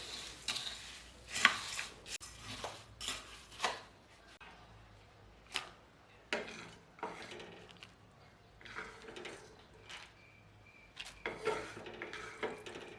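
Chatpate being mixed with chickpeas in a bowl, with scattered clinks and scrapes of a utensil against the dish in irregular bursts, fairly close.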